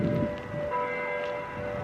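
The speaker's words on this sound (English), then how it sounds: "It's definitely a church bell." Church bell tolling at six o'clock in a small-town downtown, a sustained ringing tone heard at a distance over outdoor street ambience.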